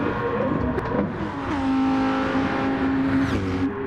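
A race car engine at Suzuka in a racing video game drones loud and close, holding a steady high-pitched tone that shifts as it revs before settling again, with no talk over it.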